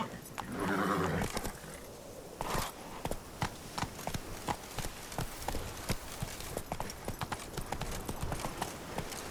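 Roach the horse in The Witcher 3 neighs loudly, then gallops off with sharp, evenly spaced hoofbeats that carry on to the end, up close and alone without talk.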